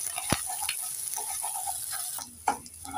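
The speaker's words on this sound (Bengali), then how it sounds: "একটু নেড়ে চেড়ে ডিমটাকে ঝিরি করে নেব" Egg scrambling in a frying pan gives a soft, steady sizzle underneath, with a few sharp spatula clicks and scrapes against the pan, close and fairly quiet.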